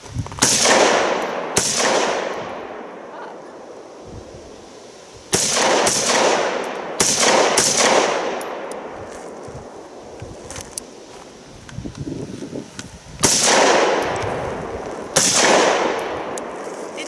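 Rifle shots from a Bushmaster M17S ring out in irregular single bursts, six or seven loud cracks each trailing into a long echoing decay outdoors.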